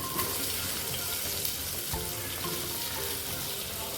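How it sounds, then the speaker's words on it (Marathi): Onion, carrot, capsicum and cabbage frying in hot oil, a steady close sizzle with soft stirring scrapes and one brief clatter, no talking. "तेल आपलं गरम झालं आता आपण हे कांदा गाजर शिमला मिरची आणि कोबी यामध्ये घालूया"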